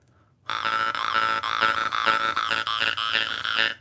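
Jaw harp played close up with the tongue rising and falling, giving a continuous twangy, buzzing drone whose overtones sweep and warble in a croaking, catfish-like rhythm, starting abruptly after a brief silence and carrying on steadily.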